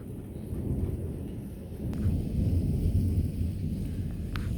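Thunder rumbling outside during a rainstorm: a steady low roll over the hiss of rain, swelling slightly louder partway through, with no voices.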